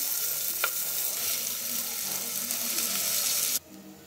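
Rice sizzles in hot ghee with cloves, black peppercorns, cumin and a bay leaf in a pressure cooker, a steady close frying hiss that cuts off abruptly near the end.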